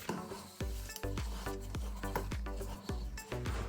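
A spatula stirs a wheat or rye sourdough starter in a container, making a steady run of close, moist scraping strokes at a regular rhythm with no voices.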